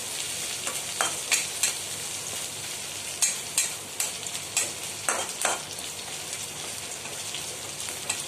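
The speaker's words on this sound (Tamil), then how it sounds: "பூண்டு கொத்தமல்லி கருவேப்பிலை பச்சை மிளகாய் போட்டுட்டு எண்ணெய் லைட்டாக ஒரு 10-20 செகண்ட் வச்சு நல்லா அப்படி வதக்கிட்டா போதும்" Garlic, coriander, curry leaves and green chili sautéing in oil for mutton dalcha: a steady crackling sizzle with repeated scraping stirs of a spoon against the pan, close and unaccompanied by speech.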